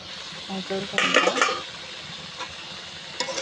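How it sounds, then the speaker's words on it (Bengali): Fish is stirred in a spice paste in a pan, with a scraping, clattering burst of spatula against metal over a soft sizzle, then quieter frying with an occasional clink. "কষিয়ে নিচ্ছি সুন্দরভাবে কষিয়ে নেব"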